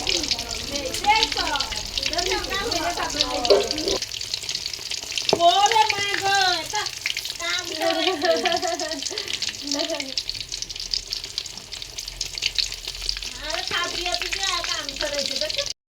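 Food frying in hot oil gives a steady, close sizzle and crackle, with a voice talking over it for much of the time.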